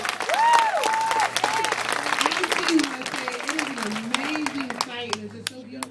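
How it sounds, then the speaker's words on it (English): Audience applause for Focus Hope at a community service day, a full round of clapping from a crowd that carries on under a speaker's voice and gradually thins out. "Can we give Focus Hope another round of applause?"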